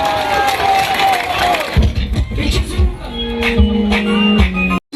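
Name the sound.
large crowd applauding and cheering at a concert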